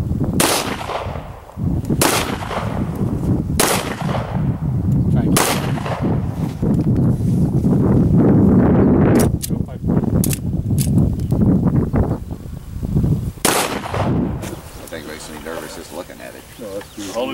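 A gun with an 18.5-inch barrel fires round after round at a shooting event, with loud irregular cracks over mechanical handling clatter and people talking throughout.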